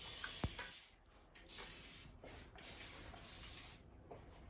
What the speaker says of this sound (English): I'm just gonna use my little spritzer bottle. And this gives the finest